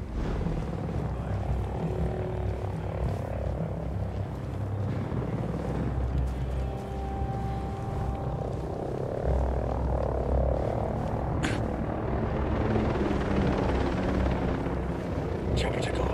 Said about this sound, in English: We got a chopper overhead.